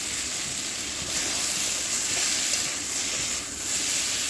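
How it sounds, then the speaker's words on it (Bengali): Vegetables with turmeric sauté in a hot pan for a dried-fish curry, giving a steady, close, hissing sizzle with slight swells as they are stirred, and no voices. "এখন আমি সবজিটাকে সুন্দরভাবে কষিয়ে নিব।"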